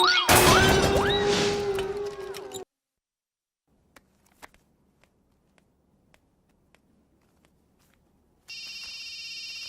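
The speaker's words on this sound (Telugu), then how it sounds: "ఫోన్ ఎత్తానాలమ్మా" A telephone in a Telugu action film scene rings with a bright electronic trill that stops after a few seconds, followed by near silence with scattered faint clicks, then a steady buzzing tone returns at the end.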